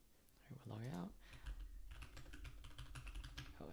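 Quick clicks of typing on a computer keyboard while setting up an iOS app, irregular bursts of keystrokes close to the mic, with a brief stretch of talking near the start.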